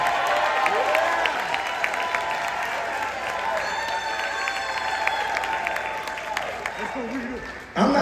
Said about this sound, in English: Let's give Rita Butts a round of applause.